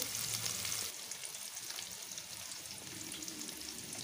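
Green chillies, onion, bay leaf and whole spices fry in hot oil for a murrel fish curry, giving a soft, even sizzle with faint stirring throughout.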